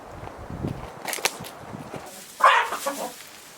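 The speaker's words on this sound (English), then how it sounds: "Let's see how the chickens did overnight." Chickens in a coop on a cold, snowy winter morning at a farmhouse, giving a few short clucks and a louder squawk near the end, with light scuffling and scattered thumps in between.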